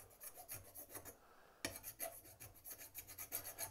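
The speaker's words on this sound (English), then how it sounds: "just filing down the tops of it." A small hand file rasps paint off the tops of fan parts in quick, steady back-and-forth strokes, close and clear, with a short pause midway before the filing resumes.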